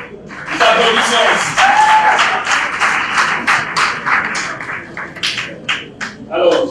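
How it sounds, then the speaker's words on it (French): Applause from a school audience at a French-language event on girls in science and technical fields, dense clapping with voices calling out over it, fading and rising again near the end. "On applaudit très fort pour Génie"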